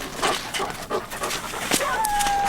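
Puppies panting and whimpering, a series of short breathy pants and soft whines in quick irregular rhythm, close by, ending with a thin high whimper.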